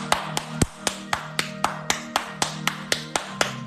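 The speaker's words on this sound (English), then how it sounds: "Y'all gonna make me keep clapping" Hand claps, about fourteen sharp strikes in a steady, fairly quick rhythm, close and clear with a faint low hum underneath and no talking.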